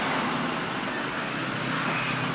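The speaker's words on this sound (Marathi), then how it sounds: "मित्रांनो पहा केसनन फाटा ते लोणीगंज फुल जाम ट्रॅफिक आहे" Heavily jammed traffic on the Nagar highway at Kesnand Phata, a dense, steady roar of engines and road noise that holds at a constant level throughout with no speech.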